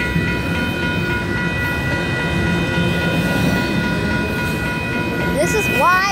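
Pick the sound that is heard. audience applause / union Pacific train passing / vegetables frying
union Pacific train passing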